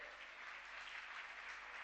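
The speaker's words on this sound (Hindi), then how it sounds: "ताली बजा करके जोरदार।" Dense, steady applause from a large audience at a Jain religious discourse, filling the whole moment with continuous clapping and no voices.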